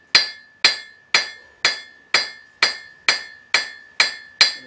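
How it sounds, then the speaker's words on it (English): Ten evenly spaced ringing hammer strikes on an anvil while forging an iron letter opener, each a sharp metallic clang with a bright sustained ring, close and loud in a steady rhythm. "the hammer tends to hit the anvil before it hits the iron"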